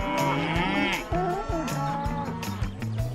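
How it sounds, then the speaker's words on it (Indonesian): A herd of cows blocking a road moos loudly and repeatedly, several deep, drawn-out calls overlapping close by with no break between them. "di depan mereka ada sekumpulan sapi yang menghalangi jalan"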